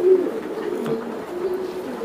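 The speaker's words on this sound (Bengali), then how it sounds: "এটা মাদি কবুতর, সবুজ গলা কবুতর" A female green-necked racing pigeon gives a low, steady cooing that rises and falls softly, close by and alone.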